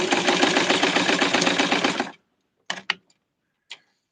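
A sewing machine runs a fast, even burst of stitching through tweed for a Barbie suit, stopping abruptly, followed by a few sharp clicks and taps.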